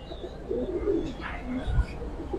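Soft, low coos of Giribaz pigeons rising and falling close by, with a brief rustle midway and faint background chirps.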